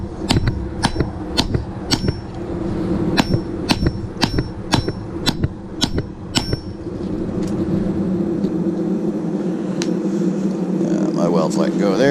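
A hammer strikes a canister damascus billet over and over to compress it at the forge, about a dozen sharp ringing blows in quick rhythm over a low rumbling background. The blows then stop and the steady roar carries on alone.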